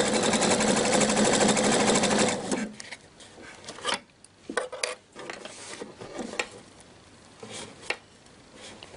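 A sewing machine stitches elastic onto pleated skirt fabric, giving a loud, steady, close whir for about two seconds before stopping. Light clicks and handling noises follow.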